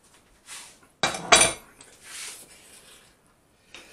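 Chopped hash browns being stirred into baked beans and meat in a pot, with a few clinking scrapes of a utensil against the pot, two louder bursts in the middle, then quieter stirring.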